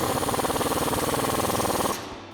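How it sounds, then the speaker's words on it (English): Rapid mechanical rattling of a tool driving a 15mm socket to tighten suspension bolts on a 2024-2026 Mustang GT during a lowering spring install, loud and steady for about two seconds before cutting off. "I'm gonna take a 15mm socket and tighten those down."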